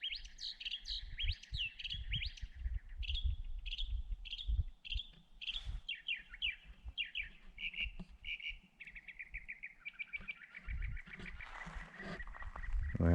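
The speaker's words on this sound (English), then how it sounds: "There's a bird sitting in the top of that cactus right in the middle of the frame. He's the one making all the noise." A bird perched atop a cactus in the Organ Pipe Cactus National Monument desert gives a long run of rapid, chattering chirps and trills, with clear repeated phrases set against faint background noise.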